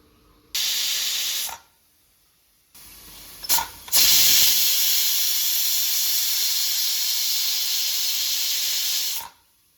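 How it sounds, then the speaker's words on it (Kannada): A pressure cooker cooking pulao lets off loud hissing whistles of steam: a short burst, a pause, brief sputters, then a long sustained near whistle lasting several seconds before stopping abruptly. "ಲಿಡ್ ಕ್ಲೋಸ್ ಮಾಡಿ ಒಂದು 2 ವಿಷಲ್ ಕೂಗಿಸ್ಕೊತೀನಿ"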